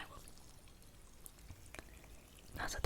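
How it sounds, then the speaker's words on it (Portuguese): Sparkling water poured into a glass, a soft, continuous fizzing trickle at close range that grows louder and brighter toward the end as the glass fills. "Ah, esse somzinho de água."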